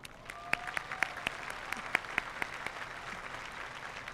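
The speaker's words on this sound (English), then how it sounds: "let's give them a round of applause" Applause at a 2021 VCS graduation ceremony, sparse and fairly distant, with individual sharp claps standing out over a thinner background patter of hands.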